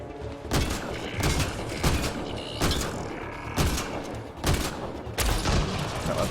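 A weapon fires in the video game Mass Effect: Andromeda, loud blasts repeating at a steady pace roughly every second against a constant backdrop of combat noise.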